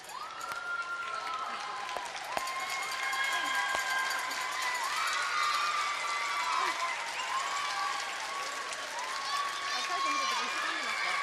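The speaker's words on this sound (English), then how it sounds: "Warm applause from the spectators here at the North Bay Memorial Gardens for both teams." Warm, steady applause from spectators fills the arena at North Bay Memorial Gardens after Scotland beats Japan at the Ford World Women's Curling Championships, continuous clapping with a commentator talking over it.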